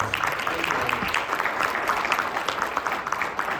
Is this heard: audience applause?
yes